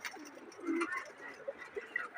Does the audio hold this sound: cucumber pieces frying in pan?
no